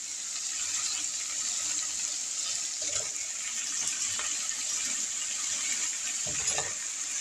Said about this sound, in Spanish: Aquí le voy a echar la salchicha para irla sufriendo la salchicha.